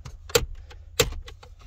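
Two sharp plastic slams, about half a second apart, as someone pushes at the broken glove box of a 1995 Oldsmobile Cutlass Ciera SL in a salvage yard, with small rattles and clicks between them at close range.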